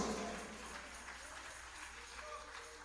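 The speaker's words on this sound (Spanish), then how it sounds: "Dale un aplauso al Señor con todo tu corazón." A church congregation applauds, the clapping soft and distant, a steady wash of hands that slowly tapers off, with faint voices mixed in.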